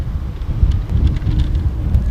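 Strong wind gusts at an outdoor softball field buffet the microphone, a loud low rumbling roar that swells and eases continuously without pause.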